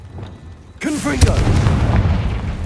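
A Confringo blasting spell bursts with a loud boom partway through a Hogwarts Legacy fight, after a quiet lead-in, followed by a crackling, rumbling tail.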